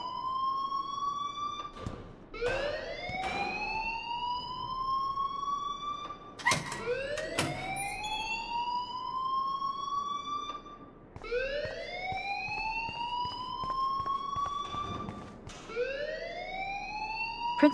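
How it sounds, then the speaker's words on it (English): A rising electronic fire alarm in the Life is Strange video game wails in repeated sweeping whoops, loud and continuous, with each cycle climbing then restarting. "please turn off that alarm since that's your job"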